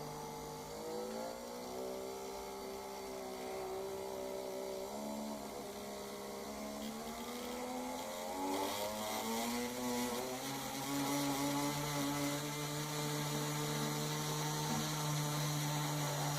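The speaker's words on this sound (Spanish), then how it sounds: "Ahora el motor presenta la máxima velocidad." A small electric motor in a thermistor temperature-regulator circuit spins at full speed, a steady faint whine whose pitch climbs slowly and then holds high, alone and continuous throughout.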